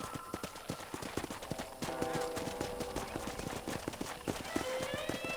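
Horse hooves in Red Dead Redemption beat a steady, brisk clip-clop throughout, close and rhythmic, with speech and a faint whinny layered over the hoofbeats.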